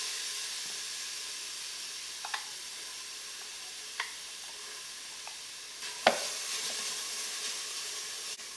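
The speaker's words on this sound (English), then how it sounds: "Let's throw in the veggies." Vegetables tipped into an Instant Pot and stirred for potato soup, giving a soft steady sizzle and hiss with a few faint scrapes and one sharper clunk partway through, with no talking.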